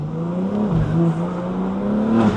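A rebuilt BMW G81 M3 Touring engine revs loudly up close, its pitch dipping then climbing and holding a throaty, rising drone before easing off at the end.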